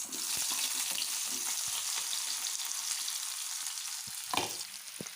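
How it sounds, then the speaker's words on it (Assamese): Chopped onions sizzle steadily in hot mustard oil in a wok, a dense continuous frying hiss with a few soft scrapes of stirring, loud and close throughout, no voices. "পিঁয়াজখিনি এনেকৈ 2 মিনিটমান ভাজি ল'ম ৰঙচুৱা হ'লৈকে।"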